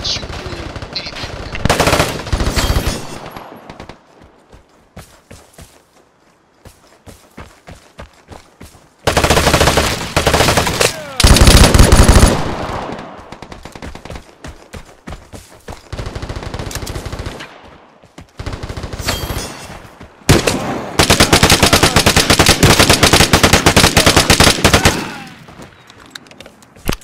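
Rapid automatic gunfire in the video game Vigor comes in loud, dense bursts and long sustained volleys, separated by quieter stretches, with brief single shots scattered between.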